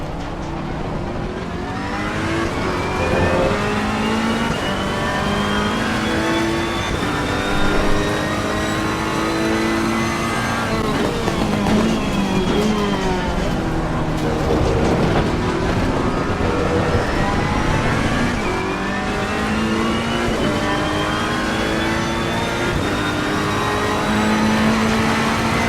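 Race car engines roar continuously in a PS4 racing game at Zolder, loud and sustained with rising and falling revs through gear changes, several cars audible close together throughout.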